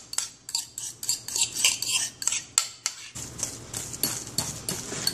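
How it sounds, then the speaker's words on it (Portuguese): A metal utensil repeatedly clinks and scrapes against a bowl while beaten egg white is mixed in, a brisk, close rhythm of sharp knocks that shifts to softer, quicker stirring scrapes. "Você vai misturar uma clara batida."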